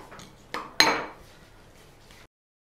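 A spoon clinks and scrapes against a dish while mashed raw banana is mixed with lemon juice: a few sharp close clinks, then softer stirring that fades out, with no talking.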